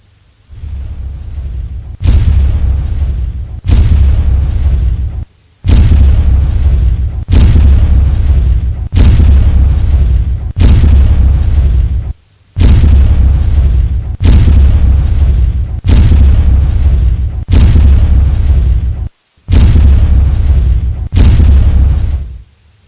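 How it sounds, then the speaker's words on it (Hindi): Heavy booms from a 155/39 mm ultra-light artillery gun firing in testing, about ten deep, loud blasts in a steady sequence with short gaps, each followed by a long rumbling decay, and no talk. "155/39 mm के अल्ट्रा लाइट वेट तोप का भी निर्माण किया है।"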